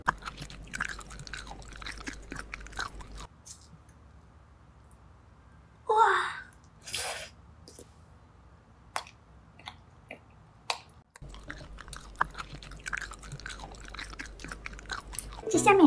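Close, crisp chewing and crunching of beeswax bottle candy filled with thick green apple jam and fruit pieces, irregular soft bites and munching with quiet pauses and a brief louder rustle midway.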